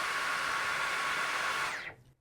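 A Dyson Gen5Detect cordless vacuum runs on medium with a steady, hissing rush of air and a thin high whine, then switches off and winds down fast into near silence.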